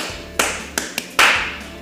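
Hands clap out a short rhythm in an elementary school setting: four crisp, close claps with an uneven pattern, two spaced apart, then a quick pair, with the last clap loudest, alone in a quiet room.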